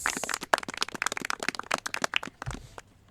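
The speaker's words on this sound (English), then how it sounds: "Let's give them a round of applause." Applause greets the new members of the Congressional Hispanic Caucus at a 119th Congress leadership introduction: dense, close clapping for nearly three seconds that thins out and stops, with no voices.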